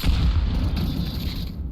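A grenade goes off in Counter-Strike: a loud, deep boom with a rumbling tail that fills the short moment and then slowly fades.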